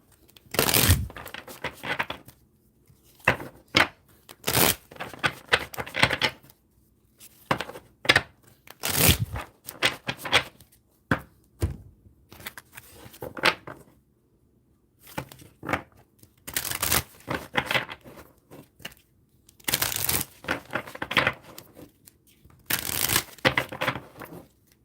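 Tarot cards are shuffled in repeated bursts of crisp riffling and flicking, each run lasting a second or two and separated by short pauses, close and fairly loud with no talking.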